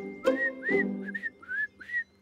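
Cartoon dog whistling in imitation of a bird, a series of about six short, rising-and-falling chirpy whistles with brief gaps between them, clear and close.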